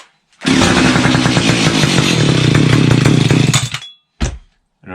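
A 1970 Stihl 031AV chainsaw fires up indoors after choking, its engine roaring loud and steady for about three and a half seconds before cutting out, followed by a brief second burst.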